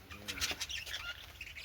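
Short bursts of bird calls and squawking chirps at the Rajgir zoo safari in India, several quick calls close together over faint background noise.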